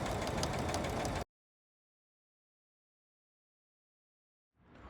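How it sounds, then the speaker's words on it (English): Electric sewing machine stitching fabric along a seam guide for a drawstring bag, a steady mechanical whir running loud for about a second before stopping, then resuming faintly near the end. "the fabric is staying up against the seam guide, and it's helping me to sew a straight line"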